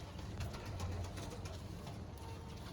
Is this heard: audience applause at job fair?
no